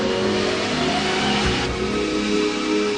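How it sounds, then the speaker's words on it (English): A car speeds toward a crash test barrier at 30 mph, its engine running loud and steady throughout with a brief shift in tone midway, close and continuous with no voices. "This car is going 30 miles an hour."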